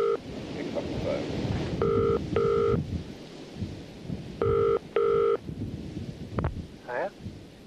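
A telephone rings in two double-burst rings as a comedy sketch sound effect, followed by a short tone as the handset is picked up, all over a low rumbling background.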